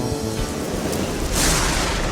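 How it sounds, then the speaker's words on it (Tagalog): Heavy rain pouring steadily in a rural farming village, a dense wash of close rainfall with a low rumbling undertone, briefly swelling louder partway through. "5 araw nang umuulan sa Barrio Matikas."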